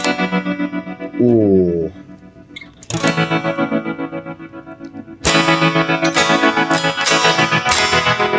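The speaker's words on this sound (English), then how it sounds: "I love a tap tempo pedal." Electric guitar played through a tap tempo effects pedal, strummed chords and picked notes ringing with distortion, chorus and repeating echoes, loud and close, with a brief pause before a final run of rhythmic pulsing repeats.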